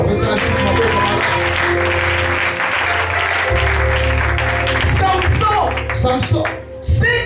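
A church congregation breaks into sustained applause and cheering, a dense roar of clapping that swells and then thins into scattered claps, with voices calling out among it.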